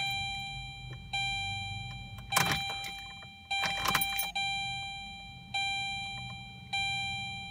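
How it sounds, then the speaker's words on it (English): A 2006 Saturn Ion's fuel pump primes as the key is turned repeatedly: brief buzzing pulses with steady high-pitched electronic chimes that recur about every second, plus a couple of louder mechanical whirs, heard up close in a quiet car. "Turn the key a couple times to try to charge the gas."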